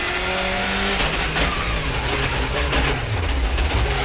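Colin McRae's rally car roars through a corner, the engine blaring at full throttle, dipping briefly under braking, then surging again with loud, rough gravel-strewn drive noise close to the microphone.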